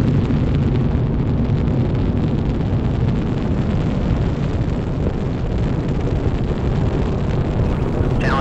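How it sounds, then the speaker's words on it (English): Space Shuttle Challenger lifts off on its 25th shuttle mission, a loud, continuous rumbling roar with broadband crackle that stays dense and powerful throughout, with no voices heard over it. "And liftoff of the 25th Space Shuttle mission,"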